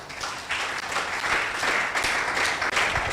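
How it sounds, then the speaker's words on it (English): An outdoor audience claps in appreciation of Nigeria's federal government, a steady wash of scattered handclaps at moderate volume with no talking over it. "I say make we clap for now they clap like say how they put."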